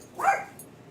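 A single short dog bark or yip, heard once at moderate distance against a quiet outdoor background, with the dog reacting to rainy weather in a garden.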